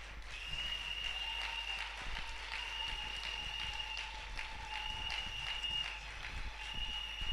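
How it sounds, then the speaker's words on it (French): A church congregation applauds during a live worship service, sustained steady clapping from a crowd with a faint steady tone ringing beneath it. "Je veux qu'on acclame le Seigneur pour cette dame."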